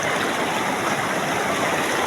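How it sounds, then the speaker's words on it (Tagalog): Strong, rushing stream water at a swimming spot, a loud, steady, close wash of churning flow with no pauses. "Grabe, ang lakas ng tubig."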